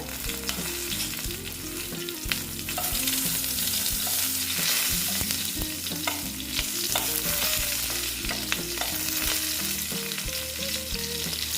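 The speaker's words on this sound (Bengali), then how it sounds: "এইবার আমি কালো জিরে দিয়ে দিলাম তারপরে দিয়ে দিচ্ছি কাঁচা লঙ্কা" Black cumin and green chillies hitting hot oil in a pan, a loud, dense, continuous crackling sizzle with busy stirring clatter throughout, close up and without speech.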